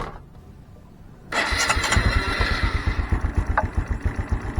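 A Honda Supra X 125 Fi motorcycle with a rapidly blinking MIL warning light starts up after a quiet pause, settling into a loud, close, steady idle with rhythmic putters.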